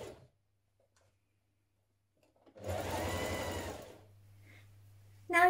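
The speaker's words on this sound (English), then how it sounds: "Stitch your sleeves in place" A sewing machine runs in one steady burst of about a second and a half, stitching sleeves into a NewLook 6651 shirt dress, then drops to a low motor hum before stopping, with quiet pauses around it.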